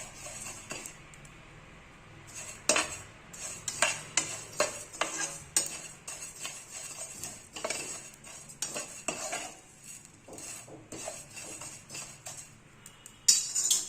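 Spices dry-roasting in a pan for a Chettinad mutton masala powder, with crisp crackles and frequent spoon scrapes and clinks against the metal, close and uneven in rhythm.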